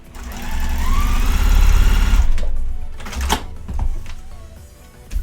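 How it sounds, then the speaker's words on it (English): A sewing machine runs at a steady, whirring stitch as it sews a straight line, then stops briefly and stitches back over the seam, followed by a few clicks and handling noises. "I'm going to stitch a line just all the way to the end. I do like to backstitch."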